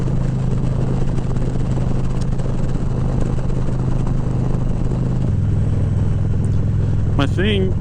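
A 2016 Harley-Davidson Street Glide Special rumbles along Oklahoma roads, its V-twin engine giving a loud, steady low drone with wind noise and a slight shift in pitch partway through, and a brief whoop at the end.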